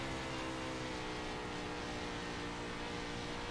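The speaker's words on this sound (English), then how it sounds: "listen to the throttle control" Dense, steady engine roar from a 410 sprint race car on track at Lanier, a continuous loud drone with throttle held on through the whole stretch and no talk over it.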